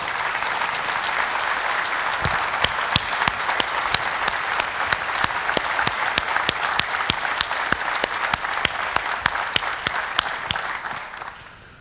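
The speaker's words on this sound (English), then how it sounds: "How about a round of applause?" Sustained applause from a conference audience greeting students standing to be recognized at an Army science conference, steady and full for about ten seconds with a few sharper claps on top before it tapers off at the end.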